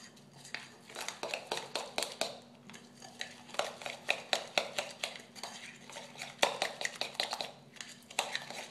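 A spoon scrapes and clinks repeatedly against a bowl while honey is stirred into a thick breakfast cream, giving quick, close, irregular tapping and scraping strokes in a steady run.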